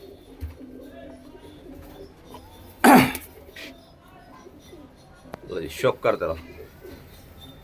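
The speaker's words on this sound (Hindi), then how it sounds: "बड़ा बड़ा तकड़ा कबूतर है भाई, इसमें उड़ने वाला पंजाबी मलवाई" Punjabi Malwai flying pigeons, large birds with very long wings, coo softly in a loft in Amritsar, low murmuring beneath someone talking, with a sharp cough-like burst midway.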